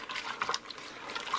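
Cheddar bacon potato soup is stirred inside a pressure cooker, giving soft wet sloshes and liquid swirls in short irregular bursts, close and fairly quiet, with no speech.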